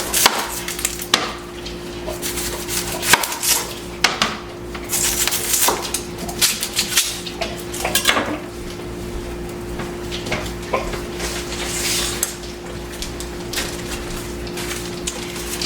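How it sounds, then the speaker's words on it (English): Knife chopping an onion on a cutting board in a home kitchen, steady irregular taps at close range while another dish cooks with a faint sizzle and a low steady hum underneath. "I'm going to go ahead and chop up an onion."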